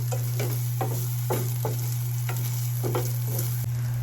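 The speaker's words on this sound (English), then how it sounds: "Is it just me or anyone else who loves the sound of sizzling oil?" Hot oil sizzles steadily in a pan while hot dogs fry for fried rice. Soft scraping stirs punctuate the close, even crackle, and no one speaks.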